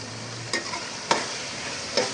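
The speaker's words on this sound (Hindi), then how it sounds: "अब इसमें हम शामिल करेंगे लहसुन, अदरक, ज़ीरा और हरी मिर्चें और सौंफ को जो पेस्ट हमने बनाया है वो हम इसमें डाल रहे हैं" Paste of garlic, ginger, cumin, green chili and fennel added to a hot frying pan for chicken biryani, a steady sizzle with a few brief stirring scrapes and spoon taps.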